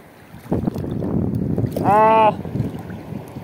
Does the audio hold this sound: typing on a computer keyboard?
no